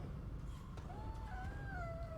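A cat gives a faint, drawn-out meow over a low, steady background hum, heard once and fairly quiet.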